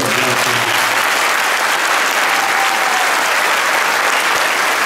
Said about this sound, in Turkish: Arkadaşlarımıza kuvvetli bir alkışlar.